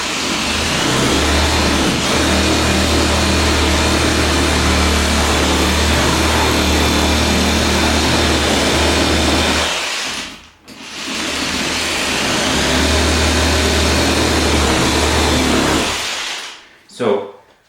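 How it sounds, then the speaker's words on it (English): A rasp sander combo power tool runs with a loud, steady whine and hum, cutting out briefly near the middle before starting again, then stopping near the end. "that is the Rasp sander combo."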